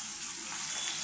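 Tangra fish frying in spattering oil, a close, steady, bright sizzle with continuous crackle and no voices.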